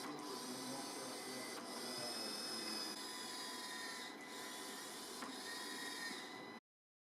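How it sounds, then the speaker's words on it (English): An automated cylinder in a real-time process-control rig steps between set positions, giving a steady mechanical whir with faint rubbing and rasping textures and a few soft knocks, continuous at moderate level for about six and a half seconds. "you could see an automatic procedure of the cylinder moving between different positions"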